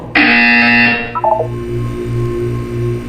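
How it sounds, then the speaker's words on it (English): Portal video game test buzzer: a loud, bright electronic tone lasting about a second, followed by a quick descending chirp and then a fainter pulsing hum. "When you hear the buzzer, look down at the floor."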